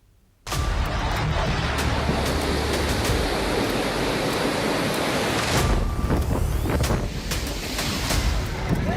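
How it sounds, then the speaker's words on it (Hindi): Roaring sea surf pounds the Gujarat coast during Cyclone Biparjoy, a loud, continuous broadband rush of crashing waves and wind that persists steadily throughout with no voices. "गरजता समंदर, बरसता आसमान, आ गया बिपरजॉय महातूफान।"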